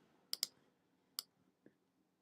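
Computer mouse buttons clicking, four short crisp clicks close to the mic, a quick double click followed by two single ones, in an otherwise quiet room.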